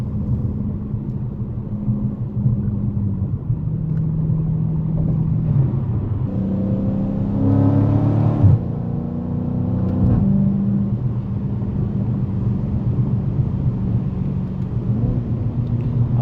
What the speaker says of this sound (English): Very loud when you go wide open throttle.